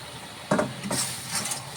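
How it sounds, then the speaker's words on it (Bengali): Black cumin, turmeric and salt being stirred in a little oil: a low sizzle under a couple of sharp scrapes and clinks of a spoon against the pan, short and close. "এখন নাড়াচাড়া চলছে, একটু হলুদ, একটু নুন সব পড়ে যাবে এর মধ্যে।"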